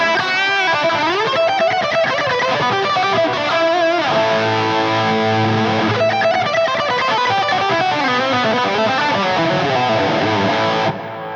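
An electric guitar played through a Matribox II multi-effect pedal on an overdrive setting plays continuously with a gritty, overdriven tone, strummed chords and riffs ringing loud and close, then cutting off at the end.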